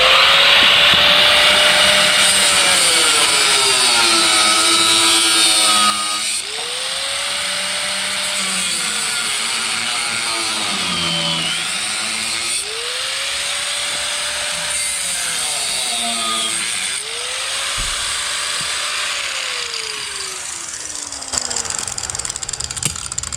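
An angle grinder cuts into metal while a front winch is fitted to a tow truck, its loud, steady whine dipping and recovering in pitch as the disc bites and releases over a long continuous stretch.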